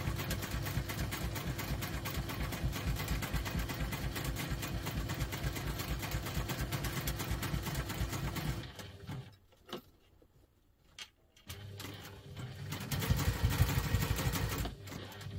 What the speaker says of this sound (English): I'm going to take that to the machine, making sure that our pockets are open. I'm going to stitch along there.